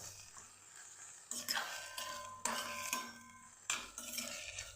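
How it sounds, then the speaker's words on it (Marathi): Eggplant bharit mixture being sautéed in a pan, with a series of sharp metallic scrapes and clinks of a spoon against the pan over a soft background, fairly close and moderately quiet. "याला पण छान परतवून घेते मी अशा प्रकारे"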